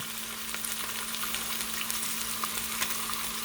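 Beef stew meat searing in a hot cast iron Dutch oven, an even, dense close sizzle with faint crackles throughout and a low steady hum underneath.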